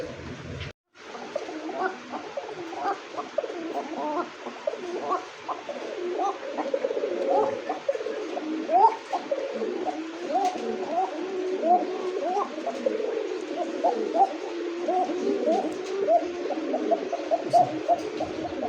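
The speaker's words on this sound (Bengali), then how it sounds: "ককা কবুতর যে ডাক দেখেন, শুরুতে শেষ পর্যন্ত ডাকায় শুরু করছে" Koka pigeons coo over and over, soft throaty rolling calls overlapping one another without a break, close and fairly loud.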